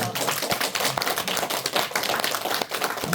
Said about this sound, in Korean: 박수 한번 치셔도 돼요